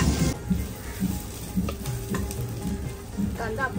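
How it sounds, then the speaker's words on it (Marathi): Chopped onions and bay leaves in a tempering, stirred with a ladle in a pan, giving a soft continuous sizzle with scraping strokes and light clinks of the ladle, fairly quiet with no talking. "दिलेली फोडणी आपण डावीने मिक्स करून घेऊया।"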